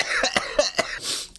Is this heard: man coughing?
yes